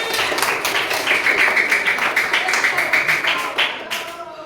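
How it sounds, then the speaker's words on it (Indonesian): Classroom of fifth-grade pupils clapping for group 3 during a maths lesson, a dense steady patter of many small hands that fades near the end, with a voice or two mixed in. "beri tepuk tangan untuk kelompok 3 atas pertanyaannya"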